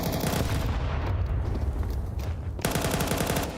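Rapid bursts of gunfire from a Counter-Strike esports match, dense automatic fire continuing throughout, with a sharp fresh volley near the end.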